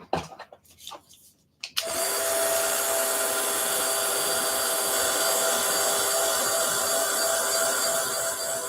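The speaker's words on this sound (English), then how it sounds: "Let me get a heat tool on it." A heat tool drying gesso on a book at a crafting desk: after a few faint handling knocks, the tool switches on with a loud, steady blowing whir that runs unbroken for several seconds, close to the microphone.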